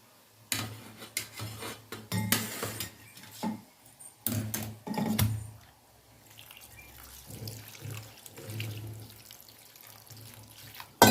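Kitchen tap water runs in bursts as food is rinsed while making sabudana chivda, with splashing, dripping and light clinks of dishes and utensils, close and intermittent, without speech.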